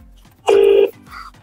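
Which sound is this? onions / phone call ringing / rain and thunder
phone call ringing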